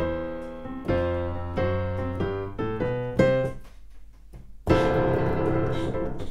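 Piano plays a descending series of rolling boogie-woogie chords, pausing briefly before landing on a big, ringing final chord.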